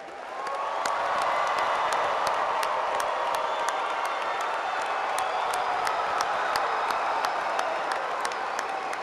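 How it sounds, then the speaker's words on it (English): Graduation audience applause for a centennial class of 2013, dense sustained clapping with a few scattered cheers and whoops, loud and steady throughout with no gap. "Please join me in giving them a round of applause and congratulations."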